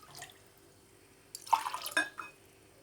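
Water from glasses is poured into a cooking pot for a watermelon dessert, a few brief splashes and trickles after a quiet stretch, fairly soft and close.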